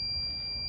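An air testing meter gives one short, steady, high electronic beep as it finishes calibrating, heard up close and on its own.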